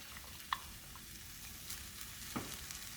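Beef fried rice sizzles quietly in a pan as scrambled eggs are added, a soft continuous frying hiss with two brief clacks of a utensil against the pan.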